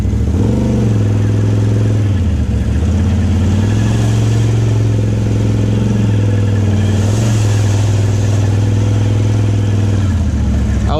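A Can-Am XMR off-road vehicle powers through mud holes, its loud engine droning and surging repeatedly with rising revs and clattering, close to the listener and continuous, with faint voices underneath.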